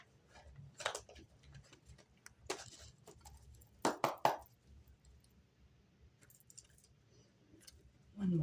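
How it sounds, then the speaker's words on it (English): A Rider-Waite tarot deck is shuffled up close. Scattered soft clicks lead into a quick cluster of crisp card riffles midway, with quiet pauses around them. "One more shuffle."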